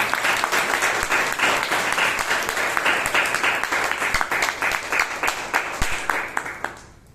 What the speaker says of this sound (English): Give Dhanya, Sugathan and her evaluator Vijay a big round of applause.